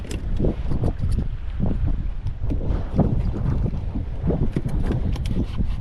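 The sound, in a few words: speedboat running on open water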